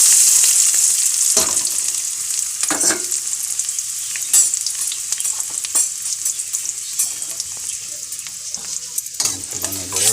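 Onions frying in oil with cumin in a pan on a gas stove, a bright continuous sizzle with scraping stirs and clinks of the utensil at intervals, close and loud, slowly settling.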